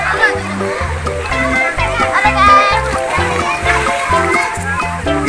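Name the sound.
child splashing while swimming in water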